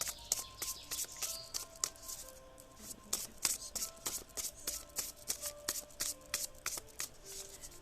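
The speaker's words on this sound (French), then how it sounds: "Je vais piger une carte pour toi." Oracle cards being shuffled and drawn in a close, quiet room: a steady run of crisp flutters and snaps repeating every fraction of a second, with faint faint tonal tweets in the background.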